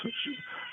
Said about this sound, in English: So that's my cat clock in the background, by the way.